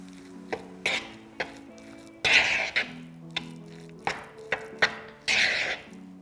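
Mandarin-style salad mixture with salt and grated garlic being stirred in a bowl, giving a run of nearby clinks, scrapes and knocks of a utensil against the dish in irregular bursts, with no talking.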